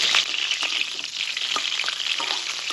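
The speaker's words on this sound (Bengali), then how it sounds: "তেলটা গরম হয়ে গেছে এখন আমি এর মধ্যে চিকেনগুলো দিয়ে দিলাম" Chicken pieces frying in hot oil for a masala chicken curry, a bright crackling sizzle held close and steady, with small sputtering pops throughout.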